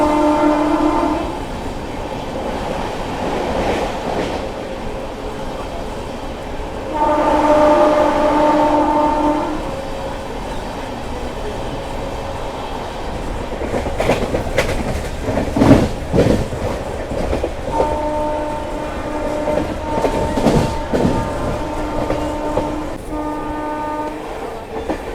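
The Ratnachal SF Express, train 12717 with LHB coaches, runs through Narsipatnam Road station without stopping, sounding several long horn blasts over a loud rolling rumble and rhythmic clatter of wheels on rail joints.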